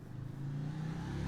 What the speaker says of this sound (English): No, motorcycle, please.